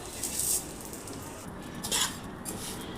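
Vermicelli (semiya) roasting in a pan for semiya payasam, with brief scraping stir strokes and faint metallic clinks over a steady low sizzle, close and soft.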